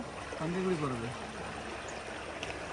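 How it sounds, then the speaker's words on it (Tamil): Cold, clear water of a Pothigai hill stream flows steadily over slippery rocks, a continuous soft rushing close by, with a brief faint voice early on. "எவ்வளோ சில்லுன்னு இருக்குது தெரியுமா பொதிகை மலை தண்ணி"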